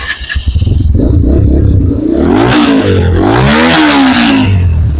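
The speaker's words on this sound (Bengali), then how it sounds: "তো প্রথমে বাইকের সাউন্ড শুনিয়ে দেই" A Rusi XL V7 2025 off-road motorcycle engine revs hard and loud up close, pitch climbing and falling in repeated sweeps over a steady idling rumble.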